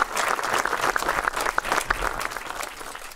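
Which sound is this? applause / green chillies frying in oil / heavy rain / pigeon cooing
applause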